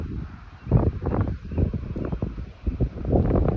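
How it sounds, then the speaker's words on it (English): Gusty wind rushes across an open golf course during a two-on-two scramble match, a steady low buffeting roar that swells and dips with each gust and rattles the microphone, with no talk over it. "Man, it is windy."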